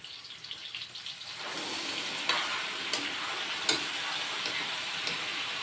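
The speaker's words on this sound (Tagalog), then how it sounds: "Pag okay na yung bawang at sibuyas, luya, pwede na natin ilagay yung prepare natin atay." Chicken liver drops into a pan of garlic, onion and ginger for adobo, rising into a steady moderate sizzle after a quiet start, with a few sharp clinks of a utensil stirring.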